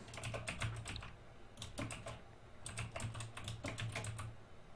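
Rapid keystrokes on a computer keyboard in bursts and pauses during Unity Playmaker editing, close and clear over a low steady hum.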